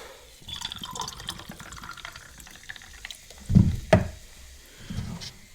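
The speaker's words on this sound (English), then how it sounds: "A splash of 7-Up." Soda poured over ice into a mixed drink of guava nectar and passion fruit juice: a faint liquid trickle and fill with two sharp clinking splashes of the pour near the end.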